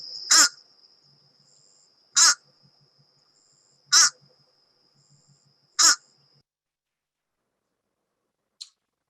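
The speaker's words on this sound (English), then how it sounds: "they sound sort of like American crow with a nasal condition" A fish crow gives four evenly spaced nasal caws, each about two seconds apart, loud and close, with a faint brief call near the end and no talking.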